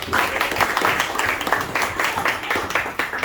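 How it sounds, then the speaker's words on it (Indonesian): Schoolchildren in an elementary classroom clap together for a group of classmates, a steady dense patter of many small hands held close by for a few seconds. "Oke, kasih tepuk tangan untuk kelompok 4."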